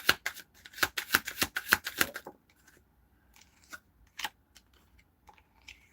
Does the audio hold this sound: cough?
no